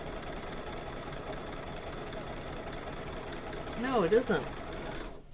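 An embroidery sewing machine stitches with a continuous, even mechanical whir and rapid needle chatter at moderate distance. A person speaks briefly near the end over the running machine.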